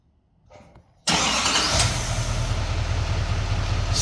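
A Duramax L5P diesel pickup with a Banks Ram-Air cold air intake cranks and catches abruptly after a brief quiet lead-in, then settles into a loud, steady close-up idle with a deep rumble.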